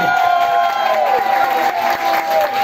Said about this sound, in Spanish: queremos un aplauso para nuestras tres grandes finalistas de esta noche.